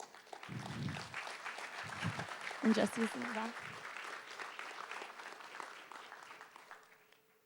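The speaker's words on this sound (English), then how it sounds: "please give the team a round of applause" Audience applause at the KnowledgeTT launch event rings out for the presenting team, a steady wash of clapping through the whole stretch, fading toward the end, with someone talking over it.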